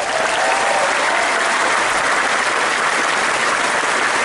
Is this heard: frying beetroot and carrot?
no